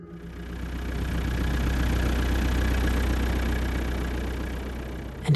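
A car engine idles steadily at night after pulling to a stop, a low continuous rumble holding at an even level throughout with no voices.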